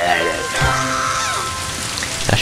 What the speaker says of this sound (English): I'll just use rain.